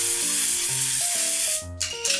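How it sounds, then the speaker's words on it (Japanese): An aerosol can gives two short hissing sprays indoors, the first a brief burst and the second a quick puff, heard over soft background music. "おーちゃんのスプレーかけます"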